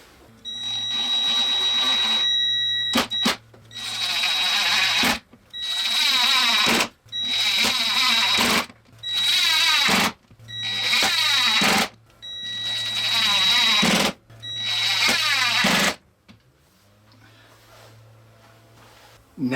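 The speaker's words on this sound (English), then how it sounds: "I'm going to use some number 8 by 3/4 inch screws and screw this track down to our plywood" A power drill drives number 8 by 3/4 inch screws through a track into plywood. The loud, close whirring comes in about eight separate bursts, each followed by a short pause, and then it goes quiet.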